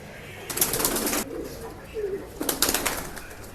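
Pigeons at a Bangalore pet shop give low cooing calls, broken by bursts of rustling and wing flaps close by, over a busy room background.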